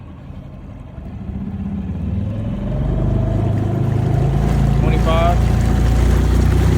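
A motorized Crescent kayak converted into a skiff runs at half throttle, its outboard engine drone building and steadying over wind and water noise, with a brief voice partway through.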